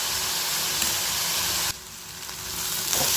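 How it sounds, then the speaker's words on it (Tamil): Onions sauté in hot oil with peanuts for a tomato chutney, giving a loud, steady sizzle close to the pan that briefly softens midway before building again. "இந்த வெங்காயம் நல்லா வதங்கணும் நல்லா வதங்கட்டும் வெங்காயம் நல்லா வதங்கட்டும்"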